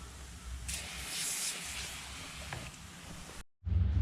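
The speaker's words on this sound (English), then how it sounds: "a bit of cleaning foam, we'll just loosen up a load of it as well." Cleaning foam hisses from an aerosol can onto a Yamaha QT50 moped engine in a close, steady spray lasting a couple of seconds, then cuts off abruptly before a low rumbling thump.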